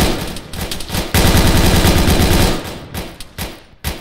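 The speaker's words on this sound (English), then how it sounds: "we're taking heavy fire" Sustained automatic gunfire in a military simulation video game, loud rapid bursts with a dense continuous stretch in the middle and scattered shots near the end, no talk over it.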